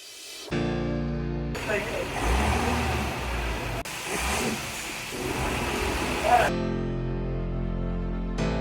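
An old truck engine turns over and starts after a battery swap, cranking briefly, then running with uneven revving for several seconds before settling, with people's voices mixed in.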